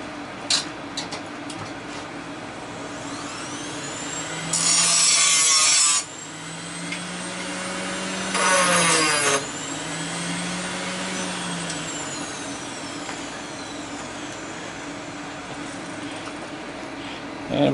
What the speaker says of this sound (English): I got my little mini grinder on the wall right there.